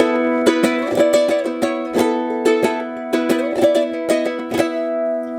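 A ukulele retuned for a medieval-style sound strums a steady rhythmic pattern of chords, bright and close, with no voices.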